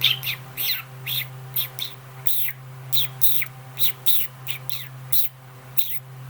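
A person imitates a small bird with a voice, producing a series of quick high chirps and tweets in uneven bursts, each short and close, over a steady low hum.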